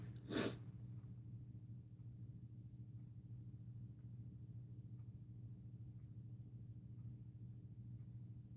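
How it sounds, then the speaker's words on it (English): A single quick sneeze bursts out near the start, then only a low steady hum and quiet room noise continue. "I think I'm going to sneeze"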